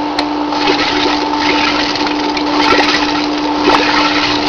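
Air sputtering and hissing back through a water line as a fire hydrant flush is shut off, a steady broadband rush with a sustained tonal whine and occasional pops, fairly loud and close with no talking.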